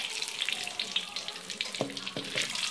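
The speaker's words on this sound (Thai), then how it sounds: "เฮาก็น้ำมันฮ้อนแล้วเฮาก็ใส่ลงไปเลยนี่" Food frying in hot oil in a northern Thai kitchen, a quiet, steady crackle and hiss with faint voices in the background.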